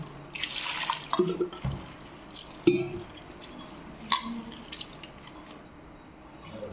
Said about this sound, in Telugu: సో వీటిని ఫస్ట్ మంచినీళ్ళు వేసి శుభ్రంగా ఒకసారి కడిగేసుకోండి